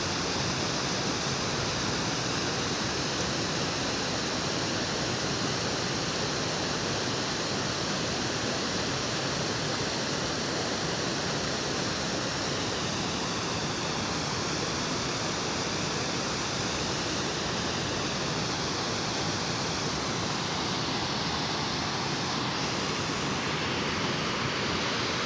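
Water pours and rushes at a mountain spring in Malakand, Khyber Pakhtunkhwa, a loud, steady broadband roar that stays constant throughout with no voices.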